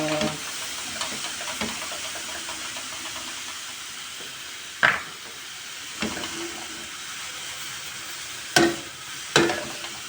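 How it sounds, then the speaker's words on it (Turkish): Soft continuous sizzling of chopped leeks sautéing in a pan, with a few sharp clinks of a utensil stirring against it. "Pırasalarımı yıkadım, doğradım, kavuruyorum."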